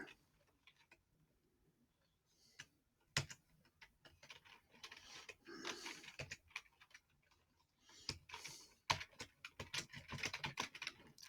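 Rapid, uneven keystrokes as a password is typed on a computer keyboard, clicking in bursts with short pauses, close and fairly quiet, with no voices.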